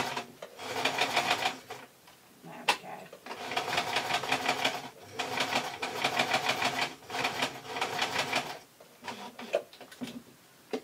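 A domestic sewing machine stitches a taffeta baby party dress in several rapid, rattling bursts separated by short pauses, loud and close, with no talking.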